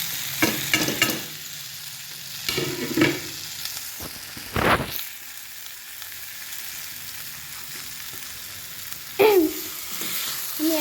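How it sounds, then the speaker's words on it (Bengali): Potatoes sizzle in hot oil in a pan for aloo dum, a steady frying hiss broken by a few loud clattering stirs and scrapes at intervals. "আলুটা দিয়ে দিচ্ছি"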